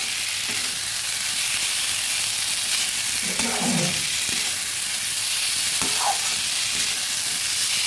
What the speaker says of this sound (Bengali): ভালোভাবে নেড়ে দিচ্ছি।